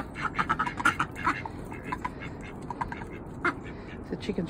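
Ducks in a morning poultry yard quacking repeatedly in close, uneven bursts, with some low background noise between calls.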